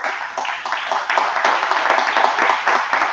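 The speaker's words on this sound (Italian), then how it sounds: "gli facciamo un applauso" Audience applause at a municipal council presentation of a town structural plan, dense continuous clapping from the room, fairly loud and steady.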